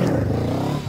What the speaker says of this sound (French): Mais là, la moto, en fait, elle patine de ouf